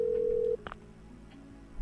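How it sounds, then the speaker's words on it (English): Phone in the video game Parasite Eve 2 giving a steady electronic tone that cuts off abruptly, followed by a brief beep and a quiet hum. "Looks like a phone of some sort"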